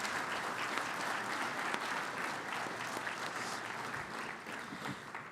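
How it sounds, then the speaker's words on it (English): A conference opening audience gives a round of applause, a dense, even crowd clapping heard from a little distance, continuous and fairly quiet from start to finish. "Let's give her a big round of applause for starting us off that way."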